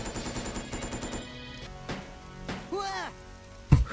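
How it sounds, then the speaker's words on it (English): A heavy .50 cal turret fires in Resident Evil Code: Veronica, a burst of rapid gunfire up front, then game sound effects and a sharp loud impact near the end, with a voice speaking partway through. "I was just emptying a fucking 50 cal turret into you"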